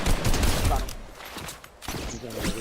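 Gunfire in an online shooter game: dense, loud bursts of shots with mechanical clatter throughout, under excited talking.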